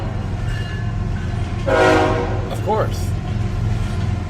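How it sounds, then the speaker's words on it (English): A train rumbles past outdoors with a steady roar and a brief sounding of its horn partway through, while someone speaks a few words over the noise. "there's a train coming by, so hang tight."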